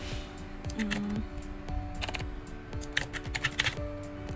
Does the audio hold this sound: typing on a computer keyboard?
yes